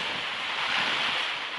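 Strong wind blowing outdoors on a cold day in Russia, a close, loud, steady roar of rushing air and microphone buffeting with no voices.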